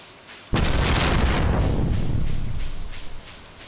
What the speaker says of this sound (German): Heute ist ziemliches Unwetter.